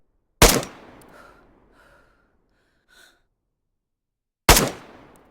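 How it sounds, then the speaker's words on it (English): Two loud, sharp rifle gunshots from DayZ crack about four seconds apart, each trailing off in a short decaying echo, with faint breathing and handling noises in the quiet between. "Adjust, then shoot the weapon again"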